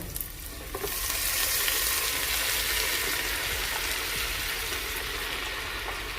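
Triple-washed collard greens sautéing in a hot pan for a home dinner: a loud, steady sizzle and crackle that swells as the greens go in, with faint stirring scrapes and no talking.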